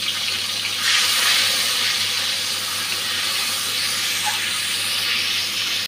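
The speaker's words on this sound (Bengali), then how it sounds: "এখন গুলে রাখা মশলাটা দিয়ে দিচ্ছি।" Spice paste hits hot oil for a Bengali fish curry, a loud, steady close-up sizzle and hiss that holds throughout with a brief swell near the start, no talk.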